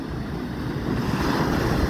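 Sea waves and surf roll in at Aparri, Cagayan as a steady, broad wash of noise mixed with wind buffeting the microphone, with no talk.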